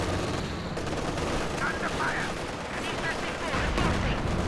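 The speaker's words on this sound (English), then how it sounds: "there's a machine gun locking this one down" Machine gun fire in the real-time strategy game Company of Heroes 2 during a 2v2 match, dense sustained bursts of gunfire and battle noise filling the mix at loud level.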